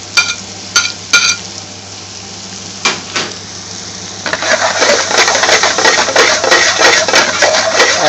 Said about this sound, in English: Now he's putting the finely chopped butternut squash mix in there.